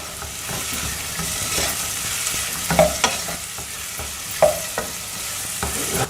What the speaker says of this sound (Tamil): இந்த தக்காளி குழையக்கூடாதுங்க, அந்த பீஸ் அப்படியே தெரியணும். அதனால நம்ம இப்போ வதக்கணும்ல